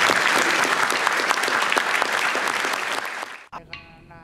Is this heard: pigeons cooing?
no